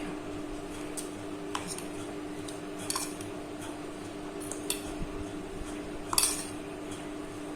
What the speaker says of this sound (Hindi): पांच चम्मच राई के ले रही हूँ